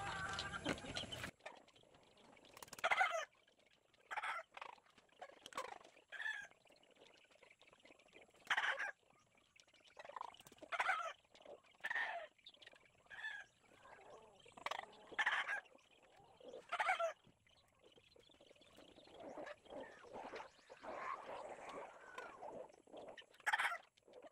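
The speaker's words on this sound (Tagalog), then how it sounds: "and yung mga babae na alaga natin, mga babaeng manok" Hens, female chickens, kept in a range net enclosure, clucking and calling in repeated short bursts throughout, fairly close and clear, with no talk over them.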